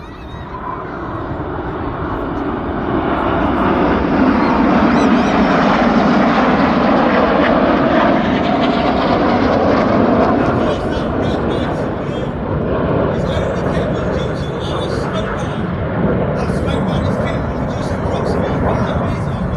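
Red Arrows RAF jets roar overhead in a formation display at the Midlands Air Festival, a loud sustained engine rush that swells and lingers for the whole stretch, with a commentator talking over it.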